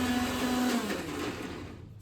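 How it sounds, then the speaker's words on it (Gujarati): A kitchen mixer grinder runs steadily and loud at close range, a continuous whirring drone with a tone that dips slightly partway through before easing off toward the end. "આશી શું કરે છે સવાર સવારમાં મિક્ચર પર કામકાજ ચાલુ કરી નાખ્યું"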